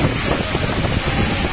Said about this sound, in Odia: ପୁରା ବାତ୍ୟା ପ୍ରବଳ ହେଇଗଲା, ଏପଟେ ଗଛ ପତ୍ର ଆମ ନାହିଁ ଅବସ୍ଥା, ପ୍ରବଳ ବାତ୍ୟା